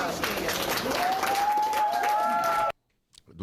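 Reporters at a press event applaud and cheer, dense steady clapping with a rising whistle over the crowd noise, then cut off abruptly to near silence with a faint voice at the end.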